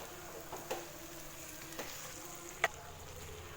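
Chettinad chicken fry sizzles softly in a pan over high flame, a low steady frying hiss broken by a few light scrapes and clicks of stirring.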